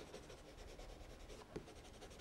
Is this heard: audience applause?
no